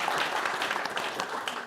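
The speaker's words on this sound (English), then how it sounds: "A round of applause," An audience applauds warmly after a panel discussion at a kidney cancer conference, a dense, steady wash of clapping throughout, moderately loud and unbroken.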